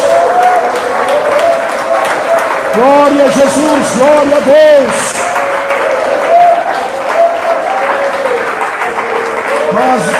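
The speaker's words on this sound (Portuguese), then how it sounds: "palmas mais fortes." Church congregation clapping during a worship service, steady clapping beneath loud, close singing-style voices praising, with the voices dominating throughout.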